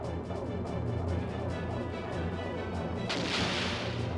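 Ship's secondary cannon firing during a battle in the Skies of Arcadia Legends video game, a rapid run of booming blasts layered with a rumbling low roll and a sharper crash near the end, with no voices.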